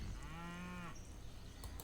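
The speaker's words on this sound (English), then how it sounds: "Look at all those sheep and cow." A single drawn-out cow moo from Civilization 5, loud and close, lasting most of a second, followed by soft game ambience.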